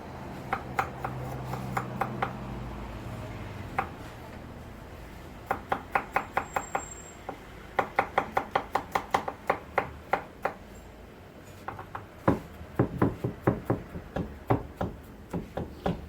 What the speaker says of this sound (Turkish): Şimdi sarımsaklarımı öncelikle ince ince doğrayacağım.